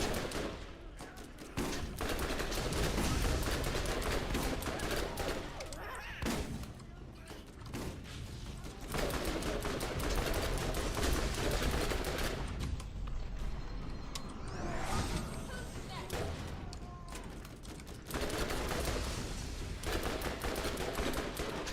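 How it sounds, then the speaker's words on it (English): Sustained SMG fire from the Burning SMG in Borderlands, continuous loud rattling bursts broken by brief pauses, with game noise layered throughout. "Let me just put on the Burning SMG."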